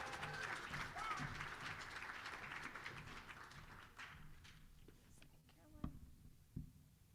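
Warm applause from a concert audience at a spring show, dense clapping for several seconds that thins out into scattered final claps and a few louder taps near the end.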